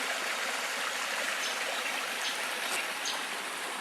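A river stream flows in a steady, close, even rush of water with faint trickling detail and no voices.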